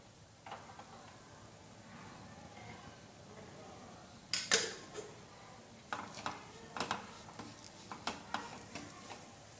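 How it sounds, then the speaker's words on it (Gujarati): A spoon scrapes and taps in a pan as rajgira flour roasts in ghee over medium gas, faint soft stirring with scattered clicks and light sizzling. "હવે આ રીતે આપણે મીડિયમ ગેસ ઉપર કન્ટિન્યુ ચલાવતા લોટને શેકી લેવાનો છે"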